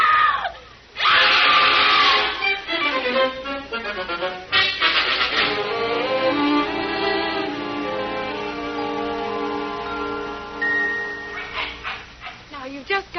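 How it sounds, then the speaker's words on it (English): A woman in a 1947 radio drama lets out loud, sustained, shrill screams with wavering pitch, breaking off and resuming, alongside other voices and barking-like outbursts. "when my wife sees me, she'll start screaming"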